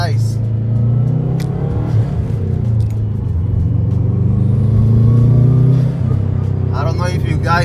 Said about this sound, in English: I don't know if you guys can hear that little baby turbo.